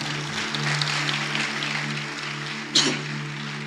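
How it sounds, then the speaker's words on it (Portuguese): A church congregation claps together in praise, a broad, even wash of applause over a steady low hum, with one sharper burst of clapping near the end and no speech on top. "eu gostaria que você aplaudisse o Senhor pela vida do pastor Luiz Hermínio"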